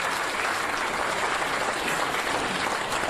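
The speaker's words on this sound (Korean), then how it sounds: "그분들한테 박수 한번 보내주세요." An audience at a Busan lecture breaks into dense, sustained applause, a steady wash of clapping from a crowd, loud and continuous without any talk over it.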